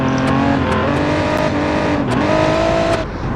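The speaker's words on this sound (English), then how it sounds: "As you can probably hear, the diffuser is scraping a bit on the ground." Racing car for a 24-hour Le Mans-style build in the BeamNG.drive video game, its engine droning loudly with shifting revs and brief scraping as the diffuser touches the ground, up close throughout.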